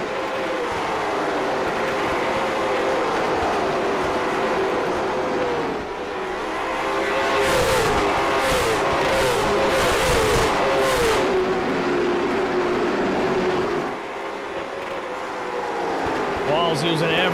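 Late model stock cars racing at Hickory Motor Speedway, one a Pontiac GTO, roar continuously at full throttle with engine pitch rising and falling as the pack circles; a commentator talks over the steady engine noise throughout.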